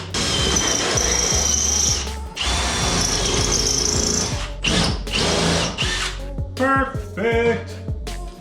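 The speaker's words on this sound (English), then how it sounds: "as I'm drilling the holes for this" A power drill boring bolt holes for a door hinge on a 1951 Ford rat rod fitted with budget suicide doors, loud whining bursts with pauses between, then ratcheting clicks and metallic rattles close by.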